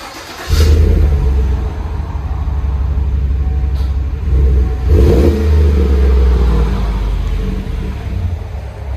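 A 2017 Chevy Silverado LT 5.3L V8 with a Flowmaster Outlaw exhaust rumbles steadily and revs up a couple of times, with a throaty exhaust note, heard up close.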